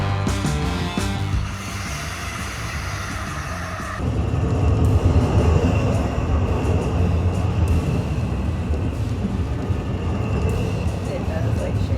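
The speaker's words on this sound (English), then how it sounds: "But that's the regular train." A train rumbles past a nearby RV campsite with a loud, steady roar and rattling wheels that swells after a few seconds and keeps going.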